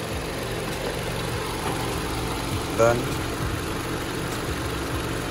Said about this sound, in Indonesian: mesin dari All New Toyota Camry, mesin ini masih sama seperti pendahulunya, menggunakan dual VVT-i